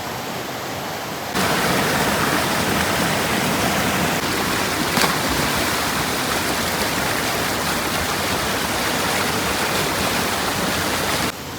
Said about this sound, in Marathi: नदी पहा वरतून वाहत येते ह्या साईडनी